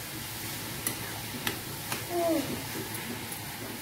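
Carrot halwa being stirred in a pan: a few scattered scrapes and light clicks of a spoon over a soft, constant sizzle, with a brief louder scrape midway.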